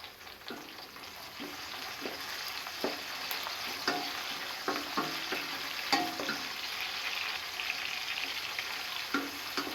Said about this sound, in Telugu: తర్వాత టమాటో ముక్కలను వేసి కలపాలి.